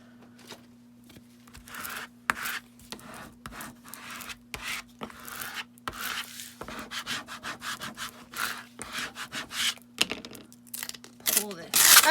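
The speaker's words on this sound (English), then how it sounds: "I'm gonna get my squeegee." A squeegee rubs a permanent adhesive vinyl decal onto a StarCraft HD pool binder, giving repeated scraping and rubbing strokes up close that build in loudness toward the end, with a faint steady hum beneath.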